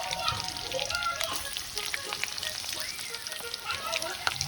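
Onions fry in a pan with bay leaves, giving a close, crackly sizzle full of small pops and spatters, with light clatter from stirring and no voices.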